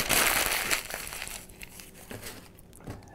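Newspaper crumpled into a ball by hand for a refrigerator odor remedy, dense crinkling and crackling that is loudest at first and then thins into scattered softer crinkles, close up with no talking.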